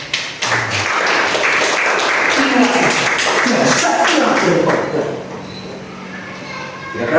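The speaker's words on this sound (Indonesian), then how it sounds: "Tepuk tangan." A classroom of children breaks into loud clapping and excited shouting at close range, then the noise thins out into scattered voices over the last seconds.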